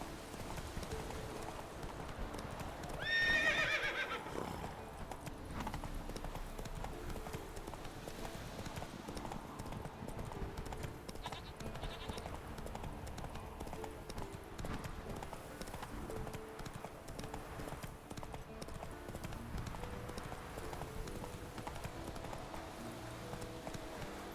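Roach the horse gallops in The Witcher 3, hooves clip-clopping in a fast, steady rhythm throughout, with a faint voice briefly over the hoofbeats near the start.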